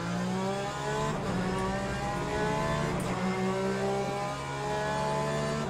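Race car engines in Le Mans Ultimate, including a Toyota hypercar, droning loud and steady with rising and falling revs as cars run close together on track.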